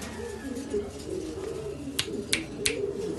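Breeding pigeons coo in low, rolling murmurs throughout, with a few sharp clicks near the end and faint background noise.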